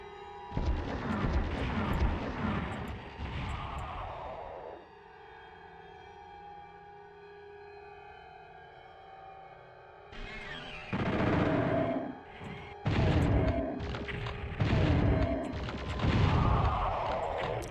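Super shotgun blasts in PSX Doom, loud and repeated, each a sharp boom with a decaying tail, arriving in bursts with a quieter droning stretch in the middle before firing resumes.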